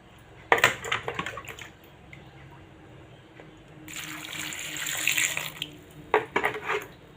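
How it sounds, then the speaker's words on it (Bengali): Vegetables mixed with green chillies are rinsed under a running tap. A steady gush of water runs for a couple of seconds, framed by sharp clatters and knocks of handling in the sink, close by. "আর একবার ভালো করে পরিষ্কার করে ধুয়ে নিই"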